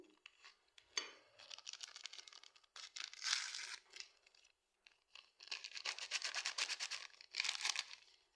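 Quiet crinkling of a paper packet of baking powder followed by soft pouring and rustling of powder, in two close bursts with a short pause between.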